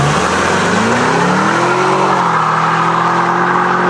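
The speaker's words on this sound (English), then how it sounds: "Not only does the engine roar with that deep W12 boom" A Bentley Continental's W12 engine roars loudly and close, its deep note rising steadily as the car accelerates, with no talk.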